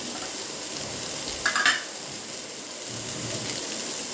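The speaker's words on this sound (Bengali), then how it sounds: "এই সব কটা আমি একসাথে ভালোভাবে ভেজে নেব আগে" Chopped onion and tomato frying together in a pan give a gentle, even sizzle with a brief brighter hiss and clink of stirring partway through, with no one talking.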